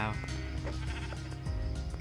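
Sheep bleating in Minecraft, a strong wavering in-game bleat over a constant dense backdrop of game sound and music.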